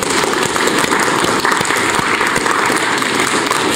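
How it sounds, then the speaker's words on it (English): Dense, sustained applause from a lecture audience at an astronomy society talk, loud and steady throughout with many overlapping hand claps and no break. "Give Terry a round of applause."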